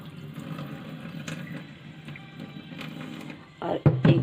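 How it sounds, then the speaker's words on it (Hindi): Water drained off rice soaked for seven hours, pouring and splashing close by with a louder gush toward the end, while a person talks. "अब हम इसका पानी एक बार निकाल देंगे"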